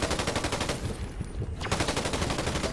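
Rapid automatic gunfire from a Fortnite battle, loud and continuous with dense repeating shots and a brief thinning in the middle before the firing resumes.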